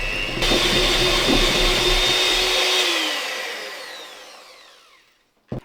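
Margarine and soft light brown sugar being whisked in a bowl, with a loud, steady motorised whine that winds down and fades over a couple of seconds, followed by a single sharp knock.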